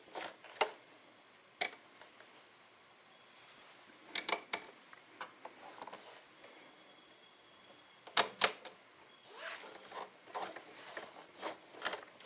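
A Merrylock overlock sewing machine's handwheel turned by hand, producing sparse quiet mechanical clicks and ticks in irregular clusters, close and faint against near silence.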